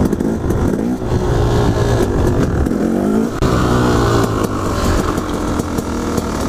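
Motorcycle engine revving hard during a wheelie, heard from onboard: a loud, continuous buzzing roar with rising and falling pitch as the throttle is held and eased, with wind noise underneath.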